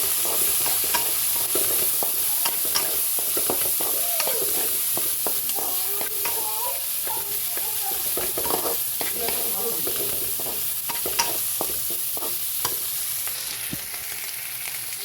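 Potatoes frying in a pan, a steady loud sizzle with repeated scraping and clacking of a spatula stirring them, close up and with no voices.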